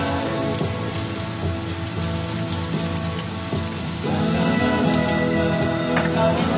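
Onion fries in ghee in a home kitchen, a dense crackling sizzle that runs throughout and grows a little louder partway through.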